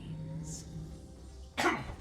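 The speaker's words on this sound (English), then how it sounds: "Clear my throat for a second there." A single short throat clear from a game caster getting ready for a Haunted Mines match, close and loud near the end after a stretch of quiet room hum.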